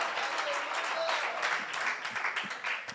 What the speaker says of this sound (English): Clap all the way and give a mighty hand of our praise to Jesus.